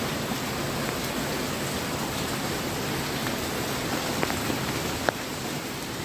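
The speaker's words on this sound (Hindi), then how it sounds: "ये देखिए खूब तेज़ बारिश हो रही है" Heavy rain pours steadily on a kitchen garden in a dense, unbroken hiss, with a few louder drips landing close by on leaves.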